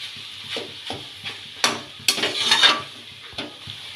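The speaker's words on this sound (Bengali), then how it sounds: "আর এরকম খুন্তির সাহায্যে একটু কেটে কেটে দেবো" Metal spatula chopping and stirring chicken chow mein with vegetables in a pan, a run of scraping, tapping strokes with a busier clattering burst in the middle, close and clear over a light sizzle.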